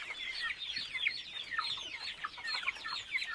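Young Master Grey chickens about six weeks old clucking and chirping together, a busy overlapping chatter of soft calls at moderate distance, with no talking.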